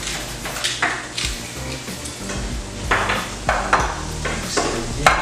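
A utensil clinks and scrapes around a bowl while stirring eggs, a busy run of irregular taps and swishes with occasional sharper knocks against the rim.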